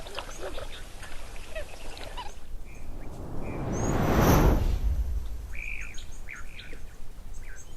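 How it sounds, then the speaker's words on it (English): Egyptian geese give several honking, chattering calls at a waterhole near Donyo Lodge, moderately close, against outdoor ambience with a swelling broadband rush in the middle and a voice speaking faintly. "Oh, lovely, some Egyptian geese,"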